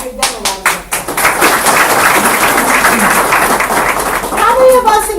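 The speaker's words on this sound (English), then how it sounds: "I'd like to give them a round of applause." An audience in a meeting room bursts into applause after a few opening claps, swelling to steady, lively clapping with some voices mixed in before it tapers off.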